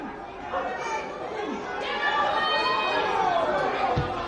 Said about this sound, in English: you can hear the crowd getting up and about here at Convenience Oval